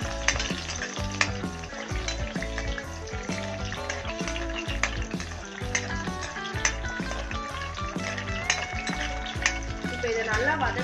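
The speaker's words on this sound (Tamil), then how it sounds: "நம்ம இப்போ இந்த 4 ரெட் சில்லிய எண்ணெயில போட போறோம்." Four red chillies frying in hot oil in a pan, a loud continuous crackling sizzle with frequent clinks and scrapes of stirring close by.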